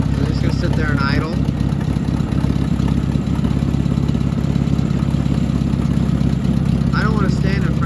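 An Oliver 504 tractor engine idles with a steady, loud low-frequency chug and rumble close by, while people talk over it.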